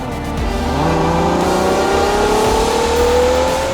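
Ferrari Purosangue SUV with a 6.5-liter V12 engine, loud and close, revving up in a steady rising pull with a smooth, rising tone and no voices.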